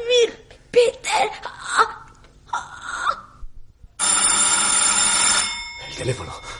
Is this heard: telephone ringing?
yes